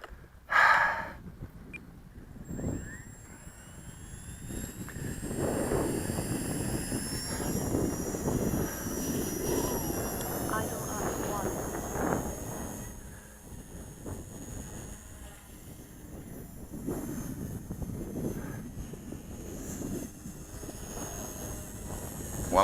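An Assault 100 RC helicopter flying in idle-up mode gives a steady whining rotor and motor drone with a high tone, holding at moderate loudness throughout, with varying blade buzz and no talk.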